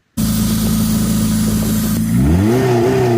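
PT Cruiser engine running on hand sanitizer, a loud steady close-up idle that climbs into a wavering rev toward the end.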